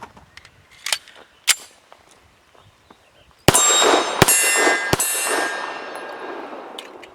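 Colt Competition 1911 in 9mm firing Remington HTP 147 grain subsonic hollow points, three sharp outdoor shots with ringing steel-target clangs, preceded by faint clicks and handling knocks.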